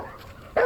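A puppy in a scene from The Last of Us lets out a single short bark or yip near the end, following a quiet stretch of low room tone.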